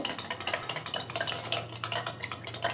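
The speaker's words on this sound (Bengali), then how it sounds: "তেল দিয়ে আবার ভালো করে মিশিয়ে নিচ্ছি" Steady rhythmic scraping and light clinks come from a utensil beating cake batter with half a cup of white oil in a bowl, repeating quickly and evenly, close up and moderately quiet with no voices.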